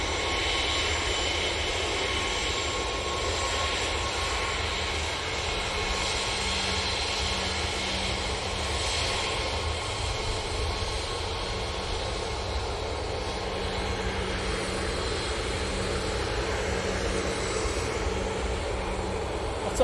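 An Easyjet Airbus A320ceo jet at Manchester Airport produces a constant, distant engine roar that holds at an even level for about twenty seconds.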